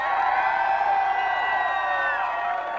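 A beach crowd at a summer tan contest cheers and whoops loudly for the female contestants, a steady wall of shouting voices that holds for the whole stretch without letup.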